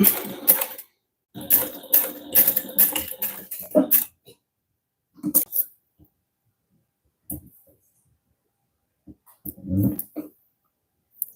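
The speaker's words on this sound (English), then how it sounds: "now we're going to top stitch it using a 1/8 inch seam allowance" A sewing machine top stitching a wallet made with directional vinyl, running in short loud bursts with pauses and quiet gaps between them.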